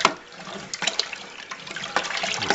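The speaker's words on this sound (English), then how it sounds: "we're going to stir that in" Yeast energizer being stirred into lemon juice for homebrew Skeeter Pee gives a close, continuous liquid swishing and sloshing with small splashy clinks, fairly soft and steady throughout.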